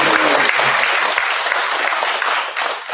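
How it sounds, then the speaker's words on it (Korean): A church congregation at Sunday worship gives dense, sustained applause, a loud wash of many hands clapping together that holds steady for a few seconds and thins slightly near the end. "박수로 먼저 영광을 드립니다"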